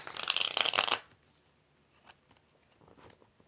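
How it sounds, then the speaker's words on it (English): A deck of tarot cards is shuffled in a quick, crisp riffle lasting about a second, close and clear. Near silence follows, with a few faint taps and rustles. "4 shuffles."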